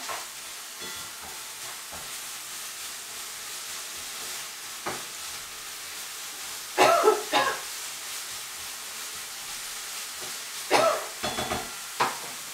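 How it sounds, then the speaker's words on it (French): Dry, sharp coughs triggered by black pepper during home cooking, with three clusters of short bursts around the middle and end over quiet kitchen background and faint stirring. "Je sais pas pourquoi ça me fait tousser comme ça."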